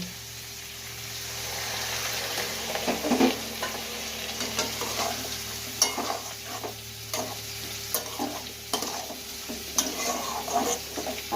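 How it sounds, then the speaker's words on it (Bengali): Prawns and a splash of water go into a frying banana-flower curry, giving a steady close sizzle broken by repeated scraping stirs and clinks of a spoon against the pan, with no voices. "এবার চিংড়ি মাছটা দিয়ে দেবো। এবার সামান্য একটু জল দেব।"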